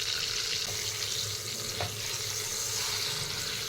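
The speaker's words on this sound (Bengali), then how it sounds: "একটা কড়াইতে সর্ষের তেল দেব আর অল্প নুন দেব। আলুগুলো ভেজে নেব।" Potato pieces and boiled eggs frying in mustard oil with a little salt in a wok, a continuous bright sizzle with faint scraping, no voices.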